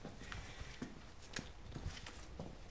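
Irregular metallic scrapes and taps from a tool sharpener played as percussion, struck in a loose rhythm, with sharp clicks and rasping strokes over a low rumbling background.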